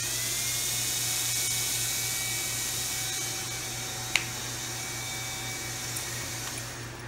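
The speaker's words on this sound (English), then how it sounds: "So there's the auger feed." Charcoal gasifier auger feed turning steadily on a planetary drive at its lowest speed, a continuous mechanical whine with a low hum, close by, with one sharp knock midway.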